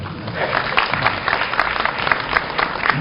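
Sustained applause from the audience at a university degree-conferral ceremony, a full, even roar of many hands clapping together without pause, heard through a muffled, band-limited recording.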